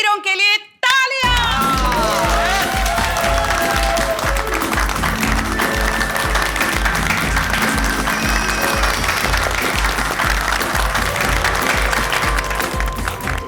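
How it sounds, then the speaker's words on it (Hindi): Applause for the heroes of a mission at the Rang Tarang Resort, from Taarak Mehta Ka Ooltah Chashmah: a brief musical sting, then a sustained loud crowd of clapping under bright music, with voices mixed in. "मिशन काला कौवा में हिस्सा लेने वाले सभी वीरों के लिए तालियां"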